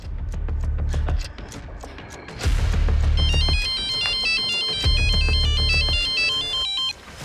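A phone ringtone plays a bright, repeating electronic melody, loud and close, over a low rumbling background that swells and fades.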